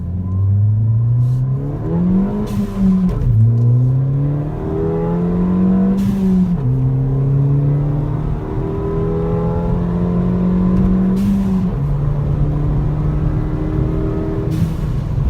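A Ford fitted with an MBRP exhaust pulls hard through its gears, the engine note rising and falling at each shift, loud and close throughout with no talk.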